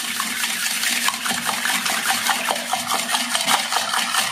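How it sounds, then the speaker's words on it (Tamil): Eggs beaten with a teaspoon of refined oil for a bread omelette, a continuous fast wet clatter of utensil against bowl with rapid rhythmic ticks, close and fairly loud. "நல்லா பொங்கி வர்றதுக்காக ஒரு டீஸ்பூன் அளவுக்கு ரீஃபண்ட் ஆயில் ஆட் பண்ணிட்டு நல்லா முட்டையை பீட் பண்ணிக்கலாம்"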